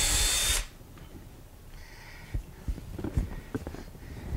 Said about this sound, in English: make sure that your drill is in a vertical position. Check around and make sure, and then go ahead and drill down